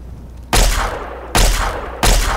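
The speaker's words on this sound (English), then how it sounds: "Fire my ray gun, I can't hit the damn thing" Three loud sci-fi ray gun blasts from Fallout 3, each a sudden broadband burst that hangs for most of a second before the next, coming in quick irregular succession with no talk.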